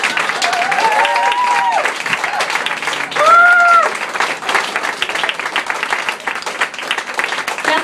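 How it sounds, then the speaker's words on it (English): An audience applauds after a comedy set, dense clapping throughout with a few whistles rising above it, loud and close. "a round of applause"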